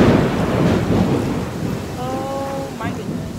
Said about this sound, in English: And it's thunder and lightning.